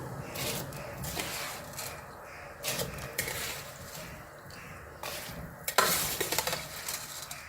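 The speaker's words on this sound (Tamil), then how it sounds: "அரிசியை போட்டுக்கலாம்" Rice grains rattle into a pot for chicken biryani and are stirred with scraping, clattering strokes at close range, no voices present.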